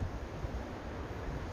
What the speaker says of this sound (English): Very wet and windy day